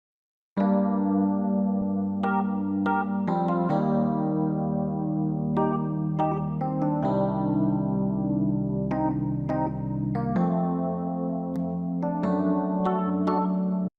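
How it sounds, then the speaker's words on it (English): Rhodes electric piano from the Keyscape library playing sustained chords alone, with changes every few seconds and bright struck attacks decaying over warm, steady low harmony, in an 80s-style production. "Then I put the chords in a Rhodes sound from Keyscape"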